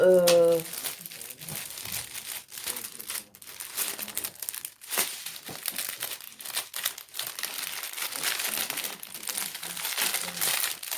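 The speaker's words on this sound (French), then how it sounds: "Excusez-moi pour le bruit du papier." Paper wrapping from an Amazon parcel crinkles and rustles in bursts of sharp crackling, close up, with quiet French talk in places.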